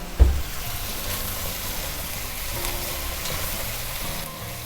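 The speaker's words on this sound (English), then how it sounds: "So let's get that stirred around." A spoon stirs a blackened cod and vegetable stew in a pot, one sharp knock at the start, then steady sizzling and bubbling with soft scraping, close by.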